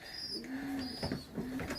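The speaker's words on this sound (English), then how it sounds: "out of one of the Blankheart pigeons" Young pigeons in a training basket give soft, repeated throaty coos in short rolling phrases, close and fairly quiet, with faint rustling around them and no speech.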